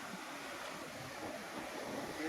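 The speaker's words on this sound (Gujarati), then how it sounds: "મોટા મોટા મોજા આવે હો ભાઈ" Steady rushing wash of rough sea waves at Shivrajpur Beach, Dwarka, with wind noise, continuous and fairly loud throughout, with no clear individual breaks.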